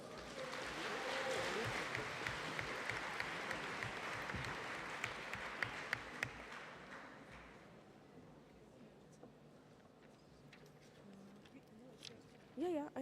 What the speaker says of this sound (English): Clapping is now in order.